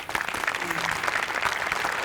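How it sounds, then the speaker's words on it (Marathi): An audience at the Maharashtrachi HasyaJatra comedy show claps steadily in a short, dense burst of applause, with voices faintly mixed in beneath it. "दोघांसाठी टाळ्या."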